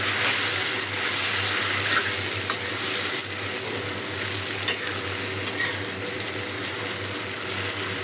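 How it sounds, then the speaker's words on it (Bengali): Small fish coated in spices frying in a kadai, a steady broadband sizzle with a low hum underneath and occasional faint clinks of stirring, continuous for the whole stretch with no talking. "ছোট মাছটা সব মশলা আমি মাখাইয়া রেডি করে রাখছি। কড়াইয়ে বসাই দিলাম।"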